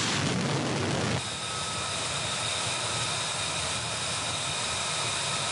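An F-35C jet lands aboard an aircraft carrier and catches the 3-wire: a loud, broad roar of engine noise that drops abruptly to a sustained whine and rumble.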